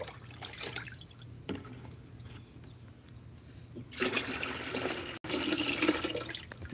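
Liquid garden feed pours from a quart container onto a home garden, with scattered drips at first, then a louder, steady gush of splashing liquid over the last few seconds.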